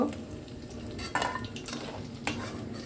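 Prawn pakoras frying in oil and being lifted out, giving a low bubbling sizzle with a couple of sharp metal scrapes and clinks of a utensil against the pan.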